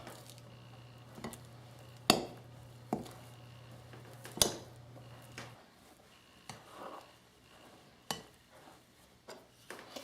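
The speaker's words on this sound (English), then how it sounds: "Once we have the lard cut into more manageable pieces" A knife chops lard into pieces for a gluten-free pie crust, giving sparse, sharp, close knocks on a board at irregular intervals with quiet gaps between them and no talking.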